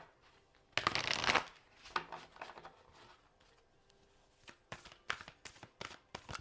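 A Destiny Oracle card deck is shuffled up close: a dense riffle early on, then a run of quick, lighter card flicks and taps spread through the rest, with no talking.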